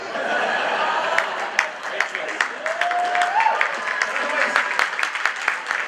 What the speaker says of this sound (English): One guy is applauding too enthusiastically.